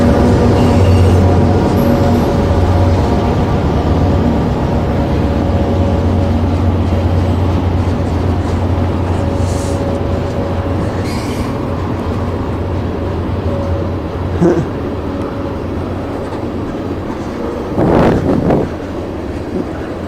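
A train runs past close by as a loud, steady rumble lasting the whole stretch, with wind buffeting the microphone and brief clanks near the end. No one speaks.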